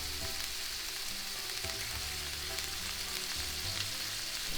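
Shrimp searing in a hot pan, a steady bright sizzle and crackle of frying that runs continuously without talking, close and even in loudness.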